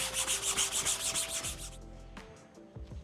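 A brush scrubs a cloth rag top on an old car stored for 25 years, giving rapid rhythmic back-and-forth rubbing strokes up close that stop after about a second and a half, followed by a few faint handling sounds.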